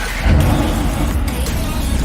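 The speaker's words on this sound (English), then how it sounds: "Oh, it's got that V8 grumble." A Mercedes-AMG GT R V8 engine turns over and settles into a deep, steady grumble that runs loud and close from start to finish, with a slight swell near the beginning.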